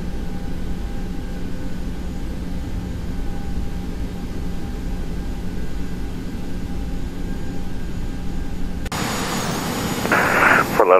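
A jet aircraft departs runway 10 left at Fort Lauderdale (KFLL), a steady engine rumble heard from the cabin that swells into a loud, bright roar near the end as takeoff thrust builds.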